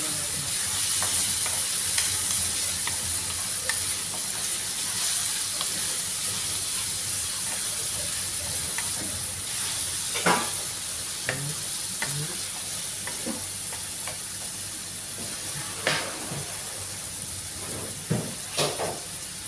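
Beef and pechay sizzle steadily in a hot pan with a constant frying hiss, while a spatula scrapes and clacks against the metal now and then, its strokes growing sharper toward the end.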